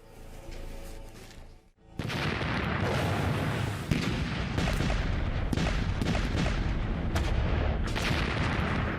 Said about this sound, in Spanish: La potente artillería de Monash pulveriza las defensas alemanas a lo largo del canal Saint-Quentin.